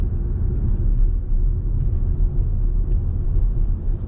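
A taxi cab driving along, heard from inside as a steady low engine and road rumble with a constant whirring drone, loud and unbroken, no talking.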